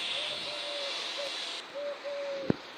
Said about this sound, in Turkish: Lan bu saatte baykuş mu ötüyor?